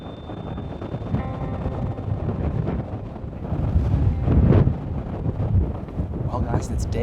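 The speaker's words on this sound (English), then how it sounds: "we're dealing with a little bit of wind this morning. Probably 25-mile-an-hour gusts." Gusty wind buffeting a microphone on a Nebraska ridge, roughly 25 mph gusts, a continuous rushing roar that swells and eases; at the start a high electronic whine also sounds.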